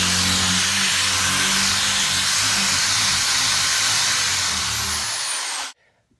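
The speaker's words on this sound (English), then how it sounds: "Get your drill and put it wherever on the tire." A power drill bores a hole into a tire, a loud steady high-pitched whine with grinding hiss that runs continuously for several seconds, then cuts off abruptly.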